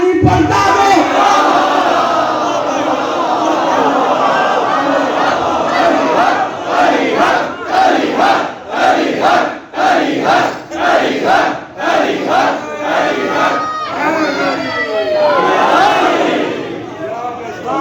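Large crowd at a Muharram Ashra majlis chanting a religious slogan in unison, loud massed voices roaring and then breaking into rhythmic repeated shouted bursts, close and dense throughout.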